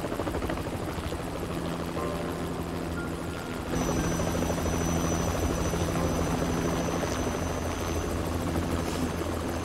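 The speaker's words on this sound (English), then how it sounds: "I saw Haruka in the helicopter" Helicopter in a Yakuza 3 video game cutscene, a continuous rotor and engine roar that grows louder partway through and then holds steady, with no one speaking.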